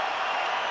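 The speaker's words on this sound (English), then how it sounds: "Crowd approves it" Hockey arena crowd in Montreal cheering in approval during an overtime rush, a steady broad roar of many voices filling the space without distinct claps or peaks.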